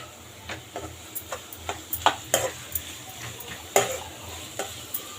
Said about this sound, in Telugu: హై ఫ్లేమ్ మీద రోస్ట్ చేసుకుందాం